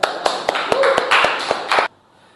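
An audience applauds at a closing session, a dense burst of clapping with sharp individual claps, moderately loud and close, lasting under two seconds before stopping abruptly.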